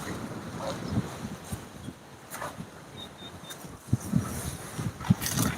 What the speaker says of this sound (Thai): โอ้ลมแรงมากเลยนะคะ